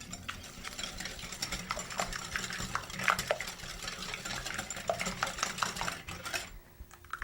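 Batter whisked by hand in a bowl, rapid irregular ticking and clattering of the whisk against the bowl, fairly quiet and close, stopping just before the end.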